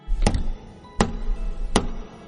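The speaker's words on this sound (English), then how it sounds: "It seems like someone is knocking at the door." Three sharp knocks on a palace door ring out at an unhurried, slightly uneven pace, close and fairly loud, with faint background sound between them.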